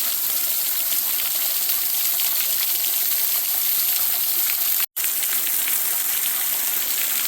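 A cold stream rushes loudly and close, a steady broadband gush of flowing water that is broken only by a brief cut partway through.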